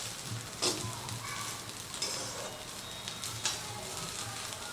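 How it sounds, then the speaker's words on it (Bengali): Fried rice with spring onions tossed in a pan, a faint steady sizzle with three brief spatula scrapes spaced a second or so apart, quiet and without talk. "তো স্প্রিং অনিয়ন দিয়ে একবার একটুখানি মিশিয়ে দেব।"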